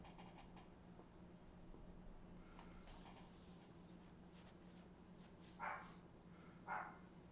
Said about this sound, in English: The dog is barking awful lot right now.